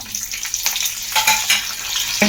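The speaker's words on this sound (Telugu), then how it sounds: "పప్పులు కొంచెం వేగిన తర్వాత దీనిలో కరివేపాకు వేసేయండి." Curry leaves dropped into hot oil with frying lentils for a coconut chutney, giving a loud, steady crackling sizzle close up with a few stirring scrapes and no talking.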